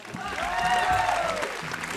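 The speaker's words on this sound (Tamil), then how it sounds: "அண்ணாக்கு ஒரு கைத்தட்டல் கொடுங்க" A studio audience on a Tamil TV entertainment and singing show gives a short burst of clapping that swells and fades over about two seconds, with faint voices underneath.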